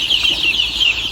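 Healthy, vaccinated Andijan black chicks peep in a dense, continuous high-pitched chorus, close by and fairly loud, with no voices.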